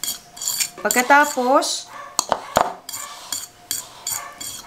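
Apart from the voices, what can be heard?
mixing keto cookie ingredients with sweetener in a bowl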